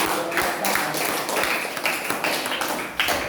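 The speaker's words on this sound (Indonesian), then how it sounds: "tepuk tangan untuk kelompok 2 sekali lagi" A classroom of students claps for a presenting group, producing a dense, steady patter of close hand claps that runs unbroken for a few seconds.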